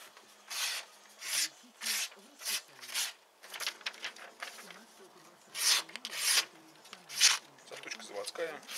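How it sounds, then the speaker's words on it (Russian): A Victorinox Hunter XS knife with a factory edge slices paper in a series of crisp, rasping strokes, about a dozen close cuts with brief pauses between them. "Давайте сначала попробуем его на бумажке."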